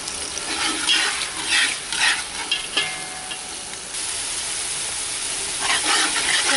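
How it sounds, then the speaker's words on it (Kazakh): Tomatoes fry in a pan with oil, cooking down until their juice evaporates, a steady close sizzle and hiss with occasional stirring scrapes throughout. "Помидорды где-то 10-15 минут қуырамыз,"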